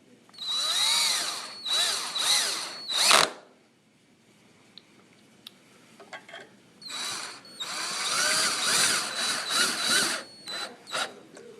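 Phillips wood screws are driven into a pre-drilled wooden post with a power driver in two long whirring bursts of rising pitch, close and loud, separated by a quiet pause with small clicks and handling sounds.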